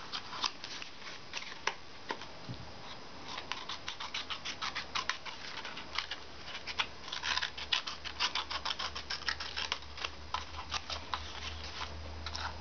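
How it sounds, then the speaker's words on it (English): Rapid, crisp snipping of small scissors through paper, a steady run of quick cuts close by with no talking. "These are my favorite little scissors."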